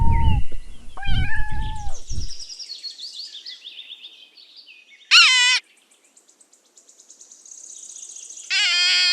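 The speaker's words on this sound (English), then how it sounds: "Kitten." Kitten meowing in several short, high-pitched mews in a quick cluster, then a pause and two more sharp, bright cries later on, close and clear with no talk.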